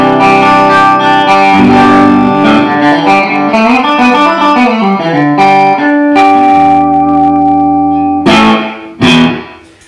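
Electric guitar through a Tone Master amp set for a chimey Vox-like tone, playing loud chords and arpeggiated runs with shimmering chorus and echo before a couple of sharp strums near the end.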